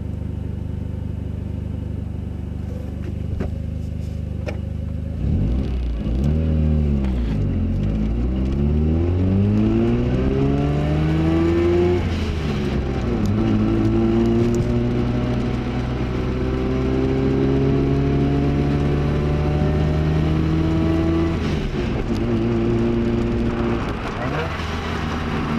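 A Mazda FC3S with a rotary engine revs repeatedly, its pitch sweeping up and falling back in several rising pulls, loud and close, with a steady idle between the revs.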